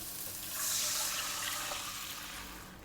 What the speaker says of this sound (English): And then you pour in your sauce.